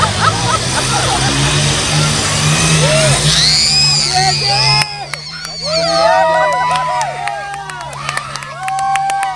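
Tough trucks roar off the line at a county competition in 2013, engines revving loudly and rising in pitch amid a cheering crowd, with announcers and spectators talking throughout.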